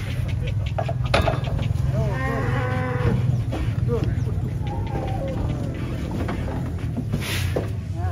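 Cattle at the Jelok livestock market, including large cows being unloaded from a truck, let out several low moos amid a busy crowd, with chickens clucking and people talking nearby.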